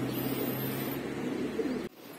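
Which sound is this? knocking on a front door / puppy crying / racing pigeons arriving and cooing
racing pigeons arriving and cooing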